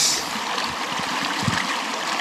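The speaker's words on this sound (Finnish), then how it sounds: "Täällä taas ties kuinka mones joen ylitys." A river stream flows during a hiking crossing in the wilderness, a steady close rush and trickle of water with a few low splashes as feet move through it.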